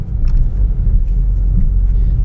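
A car cruising fast on an open road in the northeastern Indian highlands, giving a steady, loud low rumble of engine and tyres that runs unbroken and close throughout.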